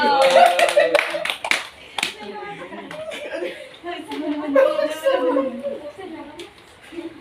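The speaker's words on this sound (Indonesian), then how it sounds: "tepuk tangan buat Leo." A class of children clap in scattered bursts in a classroom, mixed with chuckles and excited voices, the applause loud at first and then continuing unevenly.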